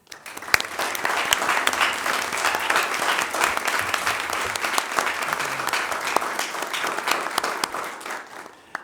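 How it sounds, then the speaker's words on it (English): An audience at a school board meeting claps for a staff member, a sustained, even patter of many hands of moderate loudness with a few louder individual claps, easing off at the end. "we have several reasons to give Mr. Chastain a round of applause"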